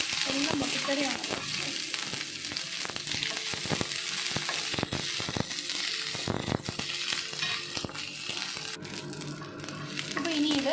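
Shallots and curry leaves frying in a pan for a Kerala-style dried prawn chammanthi podi, a steady close sizzle with crackles and occasional stirring scrapes, faint voices in the background.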